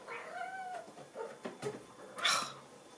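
A house cat meows several times in a quiet indoor craft room, giving short, fairly faint calls with a sharper cry near the end.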